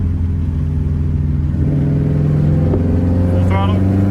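A stage 2 e-tuned Subaru WRX STI accelerates at full throttle, its engine drone climbing steadily in pitch as it revs, loud and continuous from inside the car.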